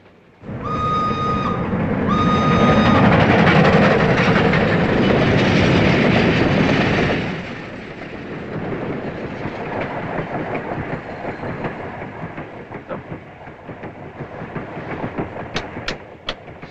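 A loud, steady rumble of a European train rolling over rails, with a brief high whistle-like tone early on, then the noise drops to a lower rattling clatter with occasional clicks.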